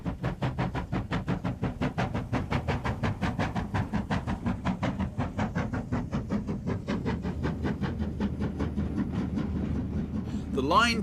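An LMS Black Five steam locomotive, number 44767, built at Crewe in 1947 with outside Stephenson link motion, runs steadily on rails, its quick rhythmic chuffing beats and wheel clatter continuing throughout with a brief hiss near the end.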